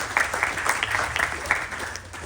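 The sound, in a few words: round of applause for Pandit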